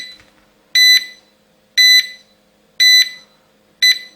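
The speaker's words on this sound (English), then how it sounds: "You hear those beeps and the lights will flash." Four short electronic beeps from a Syma X100 mini drone, evenly spaced about a second apart, bright and close, with quiet pauses between them.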